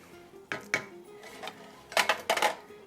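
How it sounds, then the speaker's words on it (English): Metal spoon scraping and clinking against a cooking pot while ground cumin and spices are mixed in, a few sharp knocks spaced apart, then a quick cluster of louder clanks. "Stir it all up."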